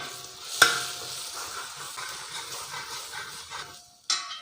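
Onions sautéing in oil with Kashmiri chili powder and coriander powder for a Kerala-style duck curry. A continuous close sizzle with stirring scrapes, one sharp knock near the start and another toward the end.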